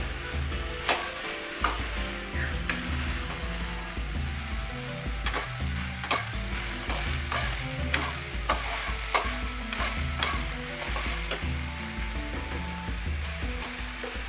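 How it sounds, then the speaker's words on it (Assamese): Black taro sizzling and frying in a pan as a spatula stirs and scrapes it, with repeated sharp metal scrapes over a constant hot crackle for a curry with jackfruit seeds and dried fish. "এতিয়া কিছু সময় কচুখিনি লৰাই থাকিম এনেদৰে।"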